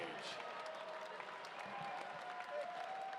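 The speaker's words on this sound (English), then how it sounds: "a round of applause, please, for both of the fighters in this cage" Faint applause from a fight crowd for both fighters in the cage, a distant, even wash of clapping and crowd murmur with some voices underneath.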